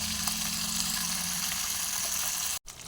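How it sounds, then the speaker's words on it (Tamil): Fish frying in a small uruli pan: a steady, close, hissing sizzle that holds evenly throughout, broken by a brief dropout near the end. "நம்மளுடைய மீன் வந்து சூப்பராக அப்படியே ஃப்ரை ஆயிடுச்சுங்க"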